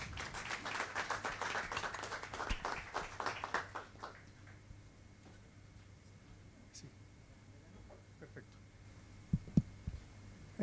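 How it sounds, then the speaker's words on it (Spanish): A conference audience applauds a speaker at a public treasury panel, scattered clapping for a few seconds that quickly dies away into a quiet room with faint clicks and murmurs. "Para él, un aplauso, por favor"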